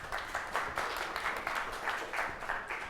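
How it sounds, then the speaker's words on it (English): Conference audience applauding at a consensus protocol session, a steady patter of many hands at moderate distance with rhythmic swells, no voices. "Hey, nice applause."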